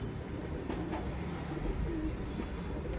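Surmi breed pigeons offered for sale coo softly, low throaty calls repeating beneath a steady background hum and rumble, with no one speaking.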